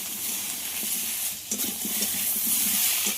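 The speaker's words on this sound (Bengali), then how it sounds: "টমেটো দিয়ে যতক্ষণ না টমেটো গলে ততক্ষণ একটু ভেজে নিতে হবে" Chopped tomato fries with onions in a pan, a steady close sizzle punctuated by spatula scrapes and stirring knocks, with no voices.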